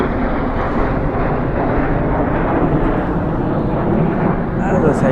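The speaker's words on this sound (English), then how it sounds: "2 more coming over the top, looks like F-16s" F-16 fighter jets pass overhead at an RAF air base exercise as a loud, broad, continuous roar that holds steady throughout.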